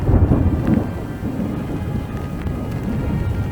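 Low rumbling thunder during a Turkish lightning storm, a heavy booming roll that fades slightly after the first moments, with wind buffeting and rain hiss beneath it.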